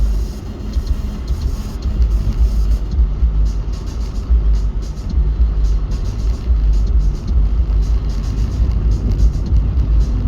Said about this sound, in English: Just constant traffic flow.